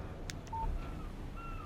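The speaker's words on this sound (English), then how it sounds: "Text message from Barry." A phone text message alert in the video game Alan Wake Remastered: a few short electronic beeps and tones over a low steady background hum, with no talk.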